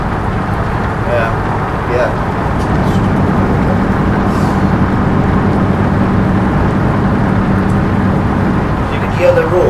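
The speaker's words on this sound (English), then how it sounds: "You can hear the road." A steady, loud rumble of truck tires rolling over road surface in Euro Truck Simulator 2, continuous engine and road noise with no breaks, with faint talking underneath.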